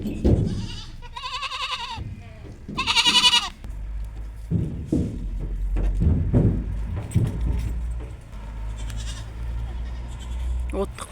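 Two-and-a-half-month-old twin goat kids and their dairy-line mother goats bleating in loud bursts on a farm near Shymkent, with a person talking and low background rumble throughout.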